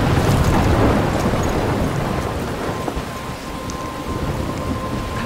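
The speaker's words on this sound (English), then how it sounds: "I'm trapped in a storm?" A heavy thunderstorm in the video game Life Is Strange, with dense pouring rain and a deep rolling rumble of thunder that swells and then eases slightly, loud and continuous with no voices.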